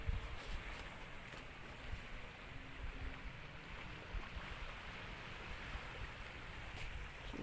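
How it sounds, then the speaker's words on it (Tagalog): Steady broadband wash of sea waves and surf along the beach at Barangay Nabitasan, Baybay, Capaculan, continuous and fairly close, with wind buffeting the microphone throughout and no talk. "So ayan po yung dagat."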